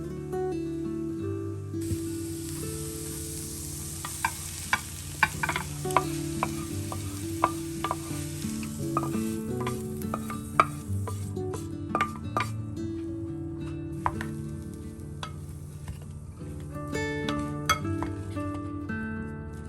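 Cooked potatoes are mashed and worked in a pot, with repeated soft thuds, scrapes and occasional metallic clinks of the utensil against the pan in an irregular rhythm, close by and without talking.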